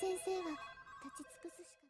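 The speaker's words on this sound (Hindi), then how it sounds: "तभी वो देखता है कि स्टाफ रूम के सारे फोन बजने लगते हैं।" Telephones in a staff room ring in electronic ringtone bursts, a sustained warbling tone followed by several short chirping pulses, with a voice speaking over them.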